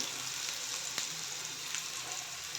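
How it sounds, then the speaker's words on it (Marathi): Oil sizzles in a pan while kothimbir vadi (coriander fritters) fry over a low flame: a steady, quiet crackling hiss with scattered small pops throughout. "थोडंसं तेल सोडायचं असं तेल सोडून घ्यायचं"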